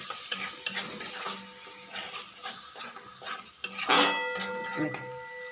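A spatula scrapes and clinks against a pan as a spiced sauce with turmeric, Kashmiri chilli powder and salt is stirred and sautéed for restaurant-style veg lollipops, with soft sizzling between irregular close metallic knocks.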